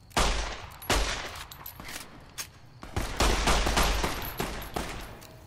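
Gunfire in Fallout: New Vegas, a series of sharp, loud shots and short bursts with pauses between them, close and punchy, trailing off in brief echoes.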